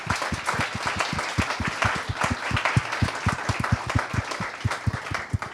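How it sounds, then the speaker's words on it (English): An audience applauds teachers at a student innovation showcase with steady, sustained clapping, a fairly dense patter of many hands at moderate distance, without speech. "So big round of applause for all of the teachers."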